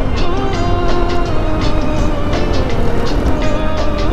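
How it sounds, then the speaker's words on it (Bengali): A motorcycle ridden with a quick shifter drones loudly and steadily close by, its engine tone stepping through brief dips as gears change. "দেখছো কুইক শিফটারে আমরা গিয়ার শিফট করছি"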